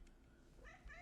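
A house cat meows close by during an online database lecture, one short, quiet cry near the end of a brief, hushed moment with no talk.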